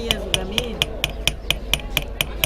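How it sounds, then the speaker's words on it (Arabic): A small hammer taps on silver in a workshop, striking about ten times in an even rhythm, each blow a bright close metallic ping over a low background hum. "سامعين دقه الشاكوش وجمالها؟"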